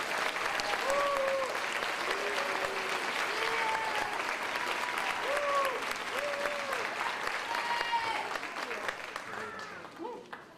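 A commencement audience applauds award recipients, graduates and alumni inductees at Upstate Medical University's College of Nursing in 2011. The applause is a loud, sustained wash of clapping from a large crowd, with scattered whoops and voices, and it fades slightly toward the end.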